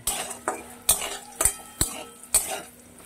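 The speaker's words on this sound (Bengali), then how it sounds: "হলুদ আর লবণ দিয়ে একটু নেড়ে চেড়ে নিয়ে আলুগুলো এবার নামিয়ে নেব" A spoon scrapes and clinks against a frying pan of potatoes with turmeric and salt in a steady rhythm, about every half second, with faint frying underneath.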